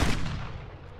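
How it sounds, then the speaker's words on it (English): A single heavy gunshot in Call of Duty: MW3, a loud booming blast at the start that decays over about a second. "When I fire my gun, jump twice"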